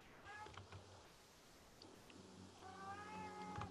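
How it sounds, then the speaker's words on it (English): A house cat meows twice, drawn-out and wavering, faint and at a distance, over a low room hum. "And that's my cat."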